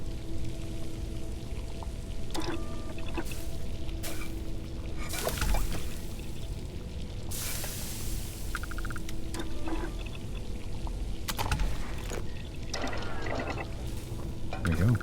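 Distilled water poured to brew alien tea in the game Starfield: a continuous watery splash and trickle holding steady for long stretches, broken by a few sharper clinks and shifts.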